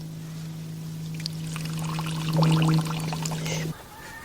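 Sea buckthorn tea poured out of a cup onto the ground outdoors in a woodland, giving a short splashing pour of a few seconds over a steady low hum, ending abruptly.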